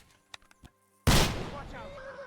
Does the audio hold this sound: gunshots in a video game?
yes